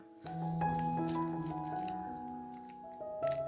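Egg white mixed with coffee powder for a face mask, soft wet squishing and sticky stirring sounds, close and continuous.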